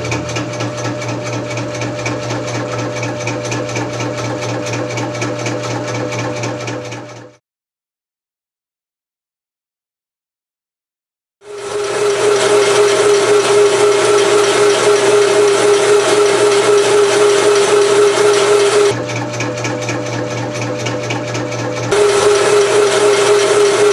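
A small newly assembled engine runs for the first time with a steady buzzing drone, stopping for a few seconds before restarting louder with a high whine, then shifting pitch slightly.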